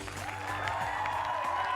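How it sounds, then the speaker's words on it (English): Applause sound effect on a sports talk show: a short burst of crowd clapping and cheering, fairly loud and steady for under two seconds. "Give me something like, give me some applause or something."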